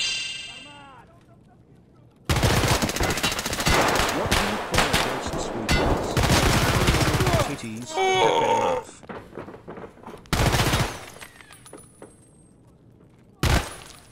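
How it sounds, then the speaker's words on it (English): An MPX submachine gun fires in Escape From Tarkov in loud close bursts, broken by gaps and clangs. Grunts and other game noises come between the bursts. "that's an MPX"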